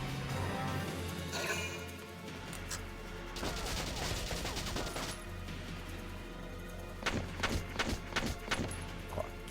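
Rifle fire in the tactical war game Valkyria Chronicles, bursts of sharp shots in the middle followed by a rapid string of distinct cracks near the end, over a low rumbling battle backdrop.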